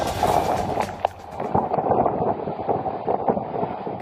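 Strong typhoon wind in Calayan, Cagayan, Philippines buffets the microphone with a loud, rough roar, punctuated by sharp knocks and rattles.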